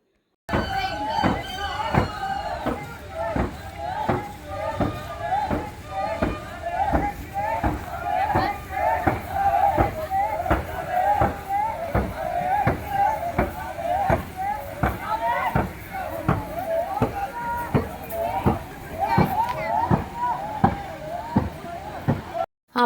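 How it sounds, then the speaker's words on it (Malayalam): A race boat on a trial run in Alappuzha moves with steady, evenly spaced paddle strokes, beating in a regular rhythm alongside rhythmic chanting voices for the whole stretch. "ഞാൻ വന്ന സമയം വള്ളംകളിയുടെയാണ് ഇത് കണ്ടോ ട്രയൽ പോണേ"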